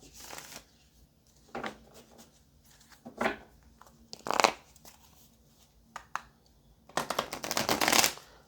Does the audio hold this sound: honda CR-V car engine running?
no